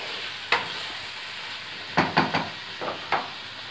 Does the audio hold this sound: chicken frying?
yes